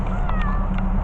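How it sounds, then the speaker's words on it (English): A cat in a backyard by a chicken pen gives a short meow over steady outdoor background noise. "Oh, and there's my cat."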